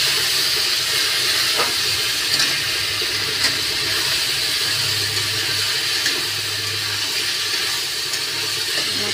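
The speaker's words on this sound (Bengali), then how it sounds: "মশলাটা কষছি" Ginger, garlic and green chilli paste frying in a pan, a steady close hiss and sizzle throughout with faint clinks and no talk.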